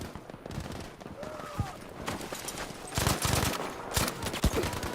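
Gunfire in the video game Battlefield V, with scattered shots and short bursts at mid distance, louder cracks toward the end, under a player's talk.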